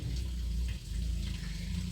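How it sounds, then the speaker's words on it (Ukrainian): An animal urinates in a shed, a steady close trickle and splash of liquid that runs continuously with a brief dip partway through. "чуєш, дзюрчить? ну не писяй ти в сараї"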